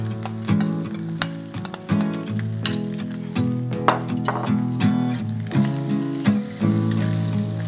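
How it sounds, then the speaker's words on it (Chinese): Smoked duck fried rice being stir-fried over high heat in a wok, steady sizzling with repeated scraping and clinking strokes of the spatula in an uneven rhythm, no talking. "炒饭从头到尾都是大火炒哦"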